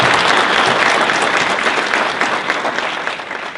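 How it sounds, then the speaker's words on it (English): A crowd at a high school hall of fame induction claps loudly and continuously, a dense wash of applause that tapers only slightly toward the end. "Let's give her a round of applause."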